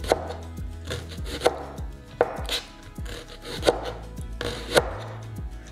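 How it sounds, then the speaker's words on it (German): A knife cuts leek into rings on a board, about six distinct close chops spaced at irregular intervals of roughly a second, each with a short crisp crunch, with no talking. "Wir werden den Porree in Scheiben schneiden."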